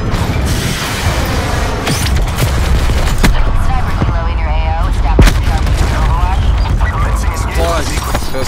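Call of Duty Hellstorm missile strike with booming explosions and gunfire in a dense, loud battle mix. Voices talk over the chaos throughout.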